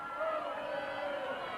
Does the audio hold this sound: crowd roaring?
yes